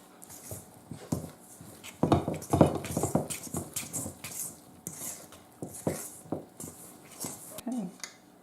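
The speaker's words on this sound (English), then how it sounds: "I'm going to stir it until all the liquid and the flour are well mixed" A spoon stirs flour and liquid into a wheat-stick dough in a bowl, giving irregular close scraping and knocking against the bowl with short pauses.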